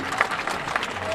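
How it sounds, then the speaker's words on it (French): Applause from an audience at a political party's national council gathering, a short burst of mixed clapping with crowd noise and a voice over it. "Applaudissez pour vous-même"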